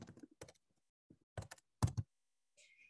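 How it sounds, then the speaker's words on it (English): Typing on a computer keyboard: a few short bursts of key clicks, close and fairly quiet, separated by silent pauses, with no one talking. "Again, pardon the typing."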